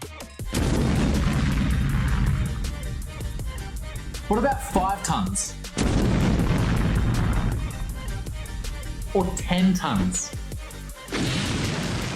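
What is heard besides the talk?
explosions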